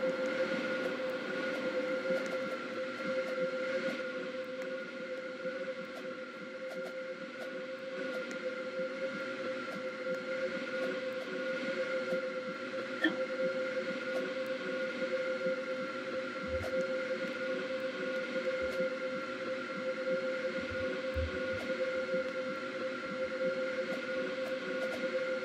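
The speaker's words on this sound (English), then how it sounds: "The train now approaching platform 1 terminates here" Train pulling into a station platform in the Roblox railway game Stepford County Railway, a steady droning engine hum with sustained tonal whine throughout, a few low thumps and a brief faint horn-like blip midway.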